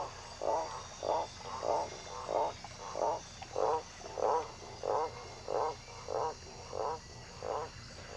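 Repeated frog croaks in a steady rhythm, about a dozen evenly spaced calls over a quiet background hiss, moderately close.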